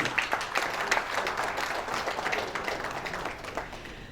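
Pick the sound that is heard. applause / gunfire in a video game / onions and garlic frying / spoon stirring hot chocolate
applause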